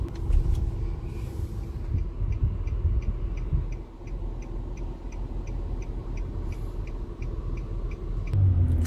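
Car being driven on a road near Almajmah, Riyadh, a continuous low engine and road rumble inside the vehicle with a regular ticking indicator clicking over it, no talk.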